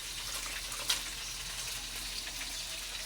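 Vegetables fry in a pan as a faint, steady sizzle with a soft clatter near the start.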